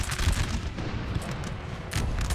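Ten-pounder cannon batteries fire in a 19th-century trench warfare battle in Napoleon: Total War 3, with dense overlapping booms and rumbling volleys, a sharp report near the start and another near the end.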